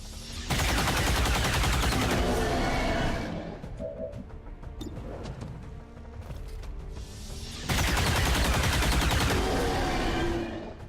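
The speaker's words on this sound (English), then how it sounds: "I just love these gun sounds and animations and images" Gunfire in the video game XCOM comes in two loud, dense bursts of rapid shots, separated by a quieter stretch of clatter and mechanical noises.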